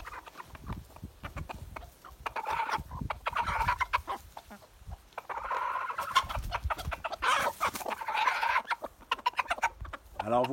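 Several chickens cluck and murmur nearby in irregular bursts, with occasional louder calls as a rooster calls hens to food he has found, and a voice in the background.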